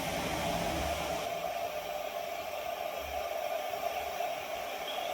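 An extra large radiator fan fitted to an Mxi 125 scooter runs in a steady, even airy whoosh, a constant broadband rush at moderate level with no pauses for about five seconds.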